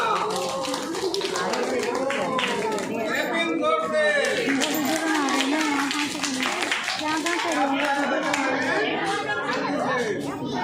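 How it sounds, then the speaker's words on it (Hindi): Clapping at a home birthday party: rapid, uneven hand claps from a group keep going throughout, mixed with children's chatter and voices singing along. "ताली भी बजाते जाओ।"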